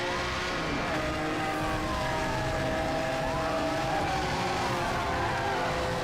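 Lamborghini Countach cars race in Need for Speed Hot Pursuit Remastered, engines droning and whining continuously with pitch sweeps as they rev and shift, loud and close, while a voice talks faintly over them.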